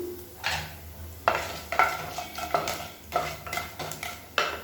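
Mustard seeds, urad dal, fenugreek and cumin fry in hot oil for a Tamil kuzhambu, giving a steady crackling sizzle. Repeated sharp spoon-and-pan scrapes and clinks from stirring break through it, close and alone with no voices.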